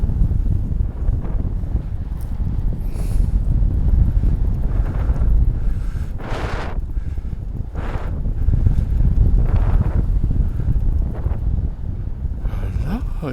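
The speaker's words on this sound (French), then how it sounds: "on a un peu de vent de travers là" Steady crosswind buffeting and rushing across the microphone while paragliding at Plouezec, continuous and loud, with a few brief bursts of higher noise and some voices under it.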